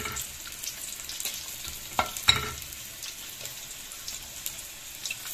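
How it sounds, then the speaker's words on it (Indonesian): Sliced shallots stir-fried in a pan with corn and water spinach, a soft steady sizzle with occasional scraping stirs and sharper crackles, fairly quiet and without talk. "Ini bawang merahnya kita tumis juga."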